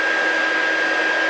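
Continuous airy whir of a heat embossing tool blowing hot air to melt embossing powder on paper card, steady and close, with no pauses.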